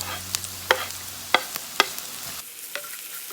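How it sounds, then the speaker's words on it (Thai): Garlic sizzles in a pan during a stir-fry of pumpkin and prawns, a steady frying hiss broken by several sharp clicks of a utensil scraping and stirring, with no voices. "จากนั้นเราก็ใส่กระเทียมลงไปนะคะ"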